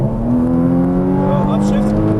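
Porsche Cayman GTS engine pulling hard at full throttle on a track, a steady loud drone rising in pitch, with a voice talking over it.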